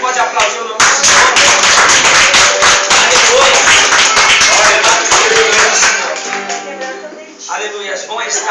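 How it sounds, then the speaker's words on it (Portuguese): A church congregation claps together during worship, a loud, fairly rhythmic burst of hand claps lasting several seconds, then dropping away to talking and singing voices. "Você pode aplaudir o nome do Senhor?"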